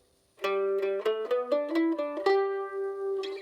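A mandolin plays the bluegrass Flatt Run, a quick run of single notes descending then settling, bright and close, with no voices.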